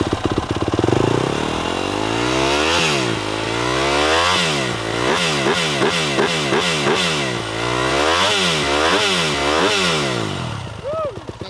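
A Yamaha YZ250F dirt bike fitted with a Pro Circuit exhaust revs repeatedly, each throttle blip rising and falling in a sawtooth pattern over a steady idle, loud and close.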